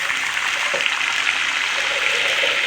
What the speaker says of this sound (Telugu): ఇప్పుడు వాటర్ పోసుకోవాలి